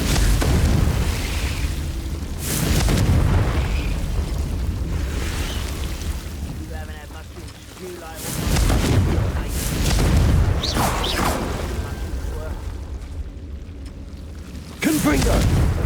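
Confringo blasting spells in Hogwarts Legacy on Switch go off as repeated deep booming explosions, a few heavy bursts spread across the clip with talk between them.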